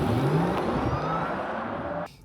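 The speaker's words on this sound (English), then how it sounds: "The actual wording for it is electric sports sound." A Porsche Taycan 4S electric sports car drives with its synthetic electric sports sound, a rising whirring hum over road noise that cuts off abruptly near the end.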